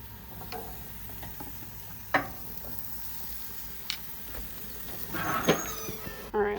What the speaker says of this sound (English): Veggies are sizzling, so we're just going to stir them